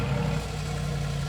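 A 700-horsepower SUV engine idles through its valved exhaust in comfort mode, a steady low rumble with a faint mechanical clatter, close and even throughout with no talk.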